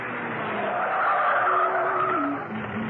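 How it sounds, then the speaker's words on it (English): Car tyres squeal and skid loudly over a continuous engine drone as the car pulls up to park outside a house, a radio drama sound effect heard alone for about three seconds. "hummed quite cheerfully as she parked the car outside Steed's home"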